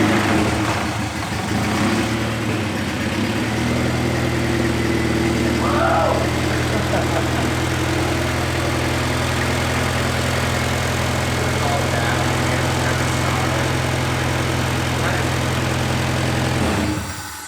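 A Honda K20A2 engine starts and settles into a steady idle, a loud close rumble with a low hum running throughout, and voices faintly underneath.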